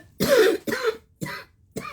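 A woman coughs four times in a row, each a sharp, close, hoarse burst with short quiet gaps between, the last one briefer; no talking.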